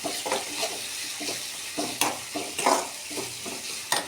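Ingredients being sautéed and stirred in a pan: a continuous frying sizzle broken by repeated scraping strokes of a spoon against the metal, close and fairly loud, with no voices.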